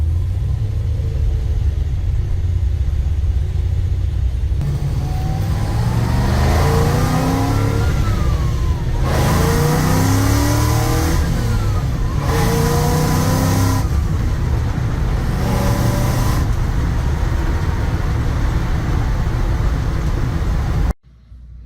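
A 1963 Chevrolet C10 pickup with a supercharged LSA V8 revs hard and accelerates in repeated rising pulls, with a deep rumbling roar close by and gear changes between bursts.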